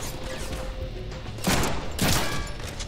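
Gunfire in a Deadpool video game: two loud, noisy bursts of shots about half a second apart rise over a steady game soundtrack and ambience.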